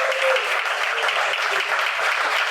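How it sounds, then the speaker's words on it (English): An audience at a business event gives Dr. Rob Passett a big round of applause, a thick, even roar of clapping that holds loud and close for the full stretch without letup. "Hey, how about a big round of applause for Dr."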